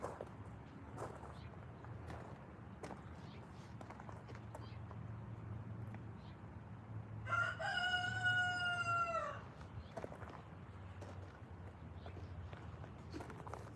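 A single rooster crow rings out mid-clip, clear and fairly near, over a steady low outdoor rumble with occasional faint knocks at a 150-mile race.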